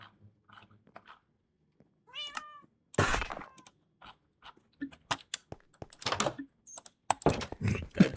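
A person imitates a cat's meow during a Minecraft gaming stream, with short rising and falling mewing calls breaking up quick, lively talk between speakers.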